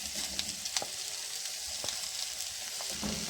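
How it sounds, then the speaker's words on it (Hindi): Cumin and potato-pea samosa filling fry in hot oil, with a dense, continuous sizzle broken by brief clinks and scrapes of stirring, close up and with no voices. "जीरे को हम थोड़ा सा फ्राई कर लेंगे, और साथ ही जो मैंने फिलिंग के लिए मिक्सचर बनाया था वो मैं इसके अंदर ऐड कर दूँगी।"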